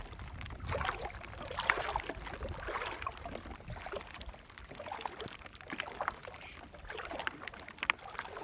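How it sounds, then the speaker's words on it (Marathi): Heavy rain pours steadily during fishing from a boat, a dense continuous hiss and patter of drops with scattered louder splashes, close and fairly even, with no talking. "लई पाऊस यायला मित्रांनो"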